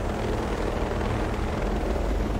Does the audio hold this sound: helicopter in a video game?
yes